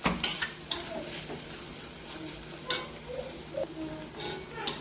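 Ridge gourd with salt stir-fried in a pan, a low sizzle under a few sharp clinks and scrapes of a spatula against metal, close by and irregular.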